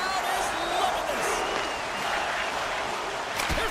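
Home crowd in a hockey video game roars with sustained, even cheering and applause, steady and dense throughout with no break.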